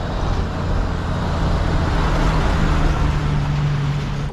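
Cars and trucks, including ten-wheeler trucks, rush downhill past a roadside spot in a steady, loud roar of traffic with a low engine drone throughout.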